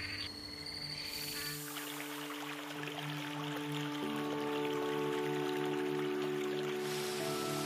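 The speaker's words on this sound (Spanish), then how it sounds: "Más de 300 arroyos atraviesan la selva paranaense" A stream flows through the Paranaense forest, a soft, continuous trickle of water heard from nearby. Steady frog and insect calls hum over it.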